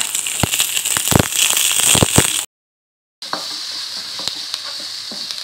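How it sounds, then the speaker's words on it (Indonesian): Raw mango sambal with shrimp paste and garlic stir-fries in hot oil, a loud close sizzle with sharp crackles and pops, briefly cut to silence before the frying hiss resumes more steadily. "Kalau ini gini, kita goreng dulu sedikit."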